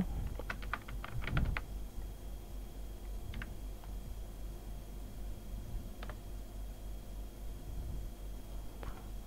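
Fingers type on a computer keyboard while filling in a job application form, a quick burst of clustered keystrokes at first, then sparse single taps over steady background hiss.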